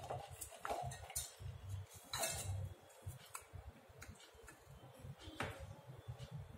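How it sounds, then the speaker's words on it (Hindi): Cut amla (gooseberry) pieces drop into a mixer jar. The result is a series of light, close clinks and taps against the jar, quiet and scattered, with no talk. "मिक्सी जार में इसको डाल लें।"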